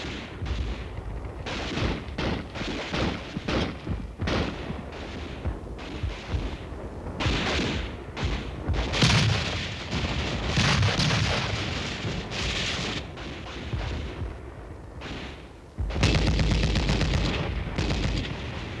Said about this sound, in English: The enemy is now within range of small arms fire.